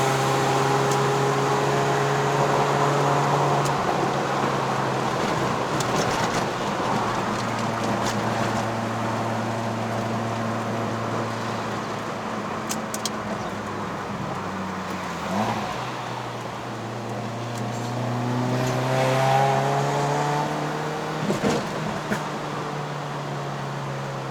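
A first-generation Perodua Myvi 1.3L engine drones steadily climbing to Genting, its pitch sliding down and back up as revs shift under load, with a faint whine from inside the cabin.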